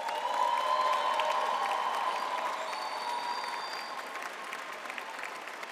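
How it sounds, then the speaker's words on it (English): Graduates at a university business school graduation ceremony applaud steadily, a dense sustained wash of clapping from a large crowd filling the hall, tapering slightly toward the end. "I would now like to ask our graduates to applaud their families, friends, partners, and spouses for their support over the years."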